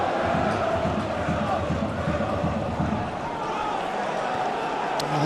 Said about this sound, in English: suddenly it's all square and the home crowd are up